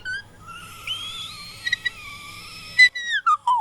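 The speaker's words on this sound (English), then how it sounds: "there was like that little voice crack that was like an octave higher over the whistle note" A whistle-register singing note holds high and thin, drifting in pitch, with a brief crack jumping an octave above it; short chirping high notes follow near the end, heard alone without talk.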